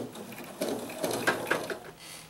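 An embroidery machine satin stitches the head and nose of a raccoon mug rug, giving quick, irregular mechanical stitching bursts up close.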